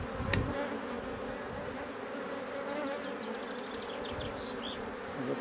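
Honey bees buzz steadily and densely around an open beehive during an inspection of frames, a continuous close, even hum with a brief sharp knock near the start.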